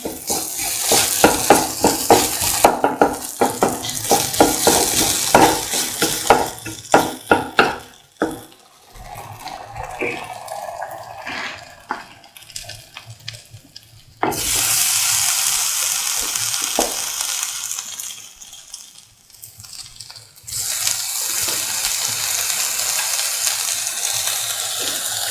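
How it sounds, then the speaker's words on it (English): Cooked potatoes being mashed in a pot give a run of rhythmic clacks and squelchy scraping up close, then quieter stretches of steady, softer mashing. "Mash the rest of the potatoes."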